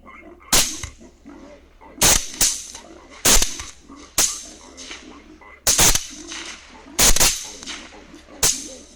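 Rifle shots during a night hog hunt ring out as seven sharp, loud cracks spaced roughly one to two seconds apart, each with a short decaying tail, over a faint low hum.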